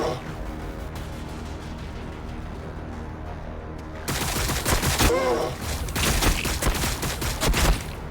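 Heavy gunfire in the Warhammer 40,000 Battlesector strategy game arrives as a loud, dense barrage of overlapping shots and blasts after a quieter, rumbling stretch of battlefield ambience.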